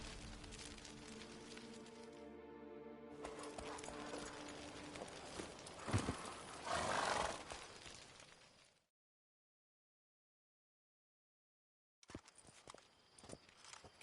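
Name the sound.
horse Roach galloping, from a video game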